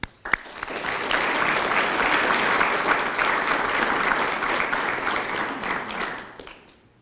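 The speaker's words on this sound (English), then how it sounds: "I think that deserves a round of applause." Sustained applause from an audience at a breakfast morning award event, starting sharply, holding steady and dense for several seconds, then tapering off near the end.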